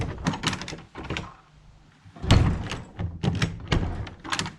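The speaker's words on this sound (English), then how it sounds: "after the second round of jacking, the door shuts." A cabin door swings shut after its sagging corner foundation has been jacked back up, giving a few close knocks and rattles followed by a firm thud as it closes.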